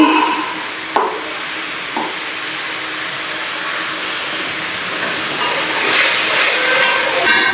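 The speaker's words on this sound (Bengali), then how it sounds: "এখন ভালোভাবে মশলাটা কষিয়ে নিতে হবে মশলাটা কষানো হয়ে গেছে" Spice paste for a Bangladeshi fish curry fries in a pan, with a loud, steady sizzle and hiss and a few sharp scrapes of stirring early on, swelling louder toward the end.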